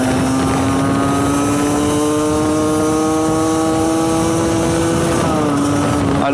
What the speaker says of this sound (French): Déjà la moto là elle va pas, regardez, je suis à fond.